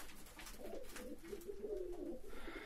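Pigeons coo softly in a coop, a few low rolling coos repeating over a faint background with no talking.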